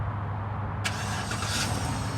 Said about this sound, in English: Start the truck up. 3, 2, 1.